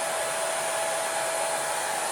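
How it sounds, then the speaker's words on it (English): A hair dryer blows continuously on a cells pour painting, a steady airy roar with a high whine, close and unchanging throughout, no voices. "But for me, I really like the hair dryer."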